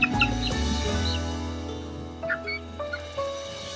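A small flock of five chickens in a backyard pen at a home livestock farm cluck and call in short, close, fairly loud bursts, with no voices.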